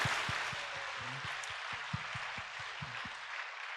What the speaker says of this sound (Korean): 다시 한번 하나님께 영광의 박수 올려드립니다.